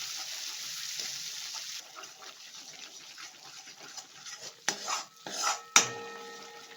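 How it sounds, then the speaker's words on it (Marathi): A utensil stirs crab through spicy masala in a metal pot, giving soft scraping and wet stirring that ends in a few louder clanks against the pot, with no voices. "आणि मांदा मस्त पैकी आता मिक्स करून घ्या मसाल्यात"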